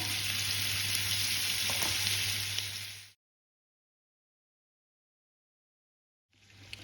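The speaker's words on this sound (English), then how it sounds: "add in a good generous amount of butter and allow that to melt in" Butter melting and sizzling in a pan around golden fondant potatoes, a loud continuous close fry that cuts out abruptly, a few seconds of silence, then the sizzle returning.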